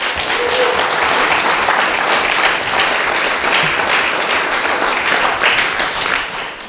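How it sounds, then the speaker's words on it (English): A church congregation breaks into loud, close applause during a worship service, the dense clapping holding strong and even before easing slightly at the end. "So let's give Kyle a round of applause."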